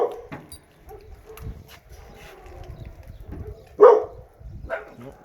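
A dog gives a few sharp barks, one near the start and a louder one toward the end, with quieter whimpering sounds in between.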